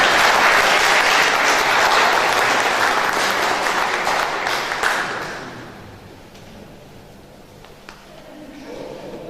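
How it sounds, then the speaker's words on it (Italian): An audience applauds at a lecture on the Mont'e Prama giants, a dense, loud roll of many hands that holds steady for about five seconds, then fades away into quiet room noise with a few scattered claps. "Facciamo un applauso."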